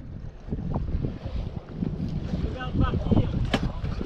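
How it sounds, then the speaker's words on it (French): A sailboat casting off under sail from a mooring buoy on a July cruise off Corsica, with steady wind and water noise, rigging and deck knocks, and people talking nearby throughout. "un petit départ sous voile avec le Denis"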